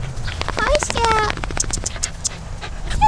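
A dog pants with quick, close breathy puffs amid scratching and pattering movement, with people talking over it and a brief whimpering squeak near the end, during a Christmas visit in New Zealand.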